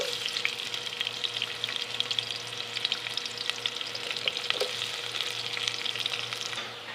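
Chopped onions fry in hot oil in a pan for a kulfa saag recipe, giving a dense, steady sizzle with crackles and scraping stirs throughout, close and with no one talking.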